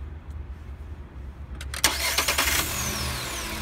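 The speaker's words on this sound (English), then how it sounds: "To start the engine," A car engine cranks and catches during a battery tester check, the starter whirring briefly before the motor fires with a loud burst and settles into a steady idle, close by with no talk.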